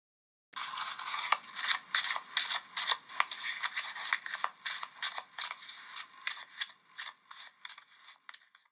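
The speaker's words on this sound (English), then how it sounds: "Shuffle 2 packs of cards." Two packs of playing cards are shuffled and cut, giving a rapid run of crisp riffling clicks and flicks in bursts, close and quiet, ending in a few separate slaps.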